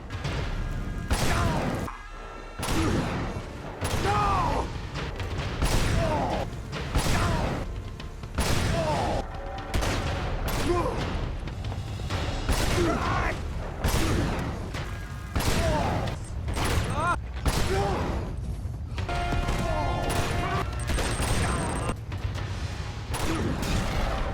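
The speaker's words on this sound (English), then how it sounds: "A few more shots are needed to kill Lazarevich" Repeated gunshots and heavy impacts ring out in irregular bursts while shooting Lazarevich in Uncharted 2, with music and game effects between them.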